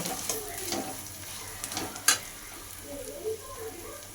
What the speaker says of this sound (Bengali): চটকানো আলুটা ভালো করে মশলার সঙ্গে মিশিয়ে নেব